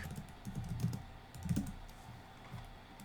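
Keys tapped on a computer keyboard while a layer is renamed in After Effects, a few quiet bursts of close clicks with short pauses between them and no talk.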